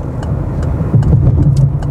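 A Peugeot 208 with a 1.6 engine runs steadily at around 3,000 rpm while driving, a smooth mid-pitched hum heard from inside the cabin, with no talking.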